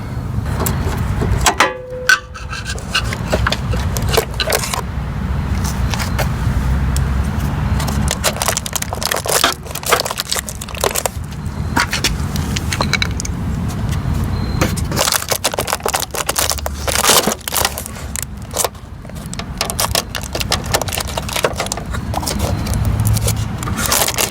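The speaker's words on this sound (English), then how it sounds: "2 screws, Phillips head. So I'm going to go ahead and unscrew those now." Screws being unscrewed by hand from an aftermarket body part assembly on a Jeep Cherokee XJ, heard as continuous close scraping, grinding and crunching textures with repeated sharp clicks throughout, no talking.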